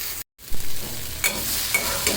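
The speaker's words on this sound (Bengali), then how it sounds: "এখন আমি ভেজে নিচ্ছি এটা" Prawns fry in a pan with a steady close-up sizzle and stirring scrapes. A brief dropout early on breaks the sound.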